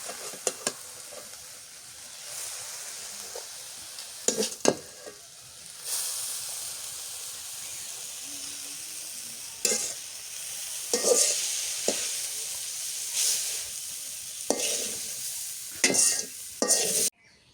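Malabar spinach (pui shak) frying in oil in a pan, a steady close sizzle broken by repeated loud scraping stirs of the spoon, with no talk.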